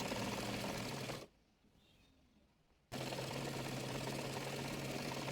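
An electric sewing machine stitches palazzo pants along the leg from hem to waist: a loud steady motor whir, a pause of about a second and a half, then the stitching resumes at the same pace.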